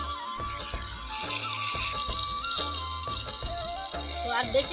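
Tap water runs into a kitchen sink as an eggplant is washed, a steady splashing hiss underneath a voice talking throughout.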